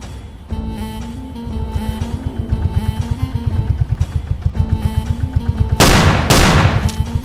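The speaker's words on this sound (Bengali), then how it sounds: "স্যার, জঙ্গল থেকে একটা গুলির আওয়াজ এলো না?" A cartoon gunshot sound effect rings out in a jungle, a loud, sharp double burst near the end that rises over a steady, thudding boat-engine putter and background music.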